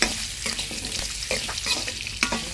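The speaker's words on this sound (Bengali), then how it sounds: "আলুটাকে একটু ভেজে নেব" Potatoes frying in a pan, with a close, steady sizzle broken by several sharp scraping stirs of a spoon against the pan.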